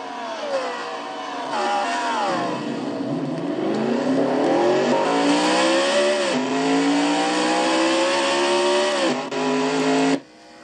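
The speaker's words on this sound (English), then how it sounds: "You heard Red Bell stall the car, and as I said, she had trouble trying to get it started." An onboard NASCAR race car engine drones and revs, its pitch dipping and climbing repeatedly as it loads up, then cutting off abruptly near the end.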